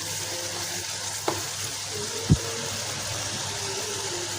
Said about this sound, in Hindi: ये देखें मसाले को हमने अच्छे से भून लेना है।